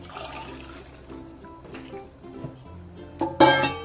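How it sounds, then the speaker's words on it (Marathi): Cooked black peas are poured with their cooking water into a pan of spiced masala. A close liquid pour and splash comes in a brief louder burst near the end, after quieter kitchen clatter. "आता हे शिजवून घेतलेला वाटाणा त्या पाण्यासकटाच घालायचा आहे."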